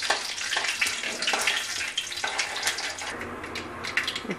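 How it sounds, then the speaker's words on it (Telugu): Tempering seeds fry in hot oil in a pan, a close, steady crackling sizzle with irregular bursts of popping throughout and no talk. "తాలింపు గింజలు వేగుతున్నాయి."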